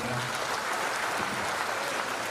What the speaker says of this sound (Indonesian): Pak Suyus Windayana, tepuk tangan buat Pak Sekjen kita,